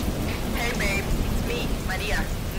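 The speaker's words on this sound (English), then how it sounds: "Damn this rain." Steady rain falls in a dense, constant hiss, with brief voice-like sounds over it.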